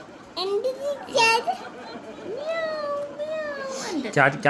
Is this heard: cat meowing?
yes